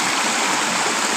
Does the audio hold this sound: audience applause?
no